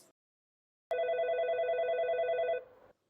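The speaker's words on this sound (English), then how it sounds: "Oh, the phone's ringing." A telephone rings in a single steady electronic trill that starts abruptly after a moment of silence, holds for under two seconds and then cuts off, close and clear.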